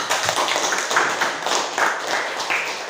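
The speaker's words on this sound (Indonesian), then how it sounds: "Kita beri tepuk tangan." A classroom group of students gives a round of applause for group 2, a dense steady patter of many hands clapping together for a few seconds without talk.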